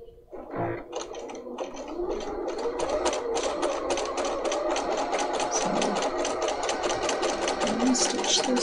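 A Bernina 300 series sewing machine stitches steadily at close range, a fast mechanical whirring with rapid needle clatter that runs almost continuously after a brief start.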